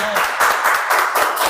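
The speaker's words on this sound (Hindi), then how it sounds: "क्या आप ताली बजा सकते हैं?" Hindi church congregation applauding together during a sermon, a dense broadband wash of hand claps at steady loudness with a brief bit of voice at the start.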